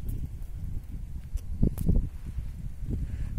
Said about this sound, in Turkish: Rüzgar fena esiyor.